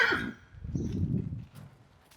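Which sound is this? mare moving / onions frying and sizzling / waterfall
mare moving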